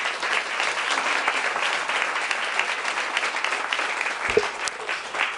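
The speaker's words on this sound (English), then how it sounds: "I'd just like to ask again to give a round of applause" A steady wash of audience applause fills a public library event in Louisville, many hands clapping at moderate distance without pause.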